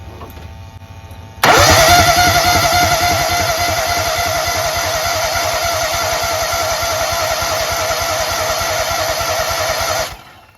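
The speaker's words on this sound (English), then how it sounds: "Okay, now it's running. I'm going to crank it." A Kohler EFI engine cranks and catches, then runs loud and steady at close range for about eight seconds before shutting off abruptly. No one speaks.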